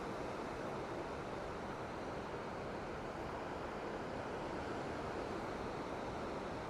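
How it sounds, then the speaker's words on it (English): Ocean surf rolls onto the Kujukuri coastline beach in Japan at dawn, a steady, loud broadband wash of breaking waves with wind rumble, continuous and unbroken with no talking. "How's that ocean sound, by the way?"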